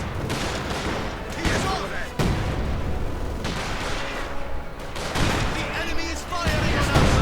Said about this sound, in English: field gun firing a barrage again, although catching a farmhouse slight by the side there as well